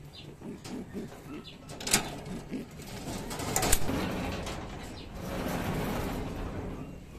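Pigeon cooing rises from a racing-pigeon loft, soft repeated low coos running through the clip amid faint rustling and a couple of brief sharper knocks.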